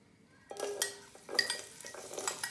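Chopped onions tumble into a pan of hot olive oil, giving a close clatter and scraping of utensil against pan with a soft sizzle beneath, in bursts over a couple of seconds.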